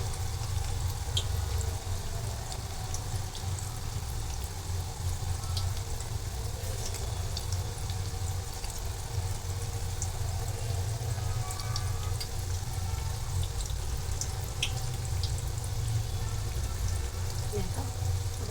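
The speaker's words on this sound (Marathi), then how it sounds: "आता भाजी पलटी मारत आहे तेलामध्ये. मिडियम गॅसवरतीच भाजी आपण तळून घेणार आहोत." Onion bhaji pakoras fry in hot oil in a kadhai over medium gas, with a steady soft bubbling sizzle and scattered crackles throughout.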